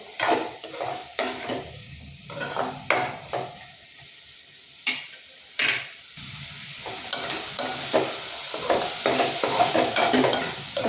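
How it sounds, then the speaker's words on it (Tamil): Mixed vegetables for a white kurma sautéing in oil as they are stirred, with bursts of sizzling and spatula scraping separated by short quieter pauses, close and fairly loud. "அப்பப்போ எடுத்து கிண்டி விட்டுக்கணும் பிடிச்சிடாமல் எண்ணெயிலே வதங்கும்போது தான் டேஸ்ட் நல்லாயிருக்கும்"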